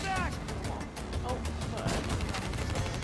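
Gunfire in the Black Ops 3 video game, quick crackling shots and rattling bursts spread through the stretch, mixed with game effects and a voice talking over them.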